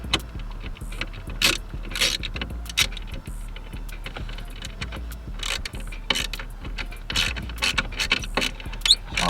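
Metallic clicks, ratcheting and rattling come from fasteners being tightened while a blue vinyl half wrap is fitted to the steering wheel of a box Chevy. The bursts are irregular and close, with brief pauses between them.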